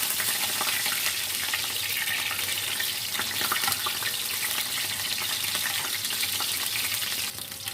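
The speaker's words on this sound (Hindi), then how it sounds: "अभी हम बाकी भी इसी तरह से कीमे के कबाब को फ्राई कर लेते हैं।" Minced meat kebabs fry in hot oil with a loud, continuous bright sizzle and crackle close by, steady throughout and easing slightly at the very end, with no talking.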